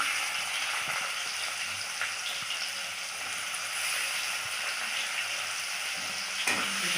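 Onions fry in a pan, giving a continuous hissing sizzle at an even, moderate level, with one sharp knock near the end.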